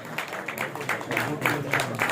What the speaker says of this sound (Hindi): आपकी जोरदार तालियां बजती रहनी चाहिए।